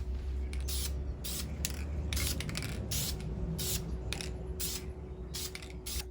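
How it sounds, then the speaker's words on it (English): Spray paint is misted lightly onto a DIY tree mask in short repeated hissing bursts, about a dozen quick sprays spaced irregularly over a steady low background hum. "Take my spray paint."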